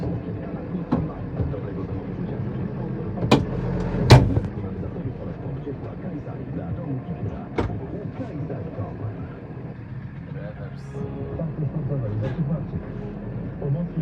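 A Case Puma 140 tractor with a six-cylinder, 170 hp engine pulls away, its heavy diesel rumble steady and close, with a few sharp knocks and clunks near the start.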